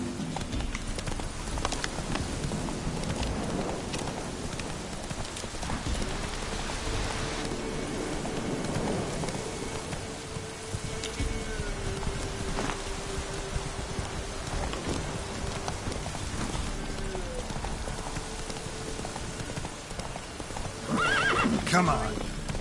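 A horse gallops and neighs in a video game: continuous hoofbeats clop along with rain-like patter, whinnies breaking through, and a voice urging it on at moments.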